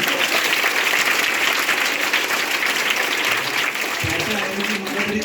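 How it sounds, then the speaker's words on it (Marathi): Loud, sustained applause from an audience in a lecture hall on scientific outlook, clapping for a student; dense continuous clapping that eases slightly toward the end, with no talk over it. "जोरदार टाळ्या वाजवा त्याच्यासाठी"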